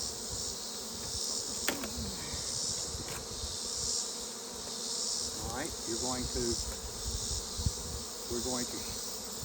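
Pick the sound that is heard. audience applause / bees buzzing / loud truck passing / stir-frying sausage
bees buzzing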